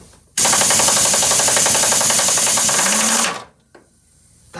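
A power tool cuts through the lever arm shock absorber on an MGB GT under restoration, a loud, steady, buzzing roar held for about three seconds before cutting off abruptly, followed by near silence.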